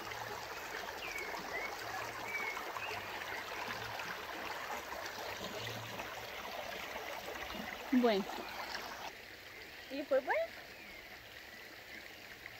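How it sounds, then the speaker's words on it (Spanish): Outdoors, a stream flows with a soft, constant rush of water, while a person speaks briefly over it with a few short voiced sounds near the end. "así dejé que escucharan un ratito lo que es el ruido del agua, los pajaritos"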